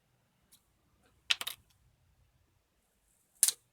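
Two short snips as a rubber band holding batteries together is cut on a McMurdo FastFind 210 beacon, a brief crisp double cut followed after a pause by a second sharp snip, close and quiet.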